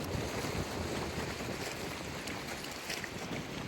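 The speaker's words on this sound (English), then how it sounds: "the wind is ripping" Strong wind blowing on open water by a fishing spot, roaring steadily into the microphone as a loud, continuous buffeting rush with a wash of waves beneath it, no talking.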